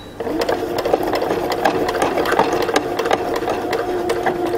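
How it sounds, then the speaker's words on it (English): A sewing machine stitches a waistband to the side seam of drawstring pants, running steadily and continuously at close range with a rapid, even rattle and no talk. "Only need to stitch it to the side seam."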